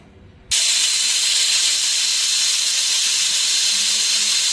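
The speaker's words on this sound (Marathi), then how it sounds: "आणि आता 2 ते 3 शिट्ट्या देऊन घ्यायच्या" A pressure cooker full of khichdi vents steam in a loud, steady hiss that starts abruptly after a brief quiet moment and keeps going without a break, close at hand.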